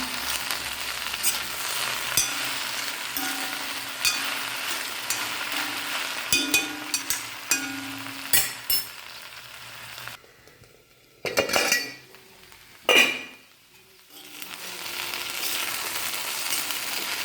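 Sliced okra cooks in a pan with a steady, close sizzle and frying hiss, joined by clinks and scrapes of a utensil stirring against the metal and a few brief quieter pauses, with no voices.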